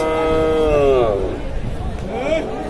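A Sahiwal bull lets out a long, loud moo amid the murmur of a crowd at a livestock market, followed by a second fainter low call.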